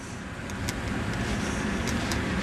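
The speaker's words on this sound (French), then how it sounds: "Le moteur de la voiture vient de démarrer." A car engine hums with a steady low rumble, close and even throughout, with faint higher clicks on top and no voices.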